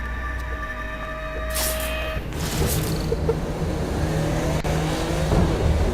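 Car engine in the video game Saints Row Gat Out of Hell revving up and holding a loud, steady drone, rising after a couple of seconds above background game sounds.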